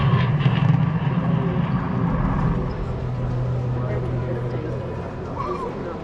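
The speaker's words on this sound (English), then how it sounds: "And we have liftoff." A simulated space shuttle liftoff at Kennedy Space Center gives a heavy, low rumbling roar that is strongest at first and then eases to a steady drone, with voices and crowd babble underneath.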